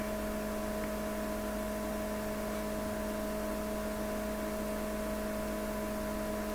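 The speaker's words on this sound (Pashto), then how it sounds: "ولې په دې وجه باندې پنکه را باندې سټارټ وه" An electric fan running indoors, a steady unbroken hum with a constant drone throughout, no voices.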